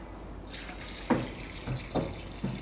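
Water pours steadily into a pressure cooker holding chickpeas and potatoes, a broad rushing stream with a few soft knocks and clunks of the vessel along the way.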